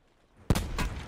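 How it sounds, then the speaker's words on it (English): A single sharp gunshot cracks in a shooter video game, followed by a short burst of further fire, fairly loud against a quiet background. "Oh, I'm being shot from west somewhere."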